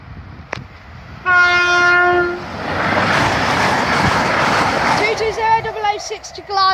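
A Class 220 passenger train blasts its two-tone horn at a level crossing, followed by the roaring rush of the train passing close by and a second horn note as it goes, with people talking.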